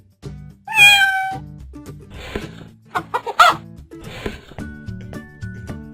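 A cat gives one loud, clear meow near the start. Several clucking animal calls follow, which sound like a chicken, and a soft musical backing plays underneath.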